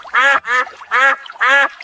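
Ducks give four loud, close, nasal quacks in an even rhythm, each short burst separated by brief silence.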